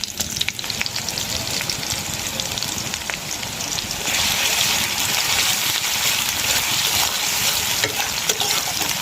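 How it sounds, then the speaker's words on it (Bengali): Chopped onion frying in hot oil with whole garam masala, a dense, loud, continuous sizzle with faint stirring scrapes, growing fuller and steadier halfway through. "পেঁয়াজ কুচিগুলো হালকা বাদামি কালার করে ভেজে নেব"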